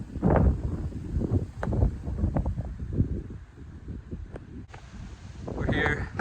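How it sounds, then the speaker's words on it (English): Strong gusting wind buffeting the microphone on a hilltop, a loud broadband roar that swells and eases throughout with rustling bursts. "We're here, very windy"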